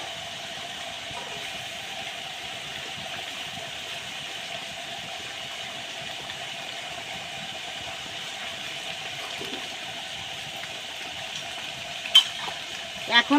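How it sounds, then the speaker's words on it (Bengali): Boiling hot water is poured into a pot of beef bhuna curry, giving a continuous, even hissing rush throughout, with a couple of sharp knocks near the end. "এখন আমি এর ভিতরে জল দিয়ে দেবো, ফুটান্ত গরম জল"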